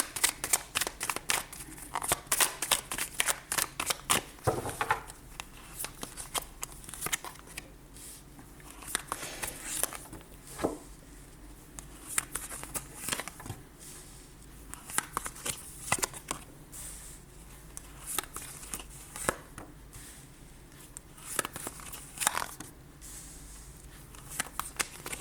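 Tarot cards are shuffled, flicked and laid out one after another on a table for a nine-card spread, giving crisp close snaps and slides in irregular bursts with quiet pauses between.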